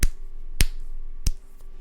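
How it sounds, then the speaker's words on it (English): Three sharp, loud thumps strike a microphone directly, spaced roughly two-thirds of a second apart, each a hard slap standing out from a quiet room background. "let me slap my balls on the mic"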